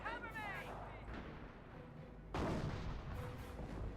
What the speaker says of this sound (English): Got Calliope rocket barrage at these Panthers